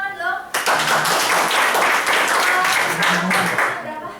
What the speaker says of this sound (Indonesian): Luar biasa, tepuk tangan loh